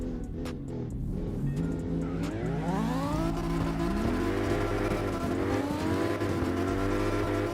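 A rotary-engined Mazda FD RX7 drift car revs hard at a drift series event, its engine note climbing and falling in repeated sweeping pulls. Tire noise sits underneath, and the car sounds fairly close with no talking.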